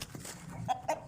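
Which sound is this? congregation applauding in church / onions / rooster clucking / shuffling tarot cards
rooster clucking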